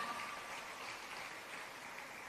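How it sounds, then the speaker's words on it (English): Applause from the audience at a business event for small and medium-sized enterprises, a soft, distant, continuous patter of many hands, steady and faint throughout. "Another round of applause for our PS,"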